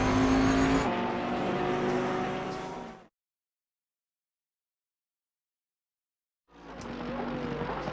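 A Bentley race car engine in Assetto Corsa Competizione at Zolder roars loud and close for about three seconds, cuts to silence, then returns, its revving tone rising and shifting at the end.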